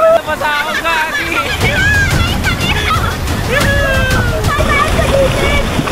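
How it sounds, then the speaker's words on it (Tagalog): Water rushes and splashes steadily during a river ride at a theme park in the Philippines, loud and close, while riders shout and talk excitedly over the churning water throughout. "Rumaragasa yung ilog."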